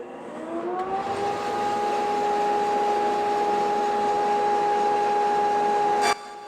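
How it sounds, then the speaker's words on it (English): A bandsaw starts up and rises to a steady whining hum, running alone at close range for several seconds before it stops abruptly. "Let's start up our bandsaw."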